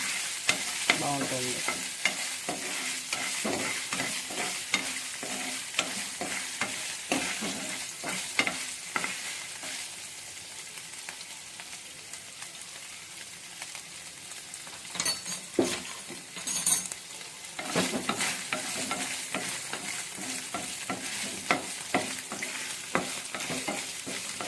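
Vegetables roasting and stirring in a pan over a stove flame for Telugu vegetable garelu, with steady sizzling and frequent scraping and clinking of a utensil against the pan throughout.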